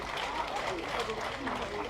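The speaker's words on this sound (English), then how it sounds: "A hand clap to the Lord." People at a 70th birthday celebration clap their hands together in a dense, continuous burst, with voices mixed into the crowd noise.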